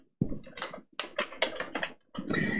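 A computer keyboard being typed on, with a few short clusters of close, crisp key clicks separated by brief pauses.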